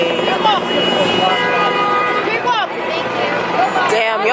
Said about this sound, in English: Why is everyone honking?